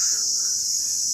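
A continuous high-pitched trill of crickets fills a quiet rural outdoor setting, steady and fairly close, with no voices or other sounds.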